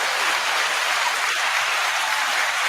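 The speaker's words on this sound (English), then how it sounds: "we're going to give a round of applause for her" A live audience applauds to welcome a new co-host, a loud, dense wash of clapping that holds steady without a break.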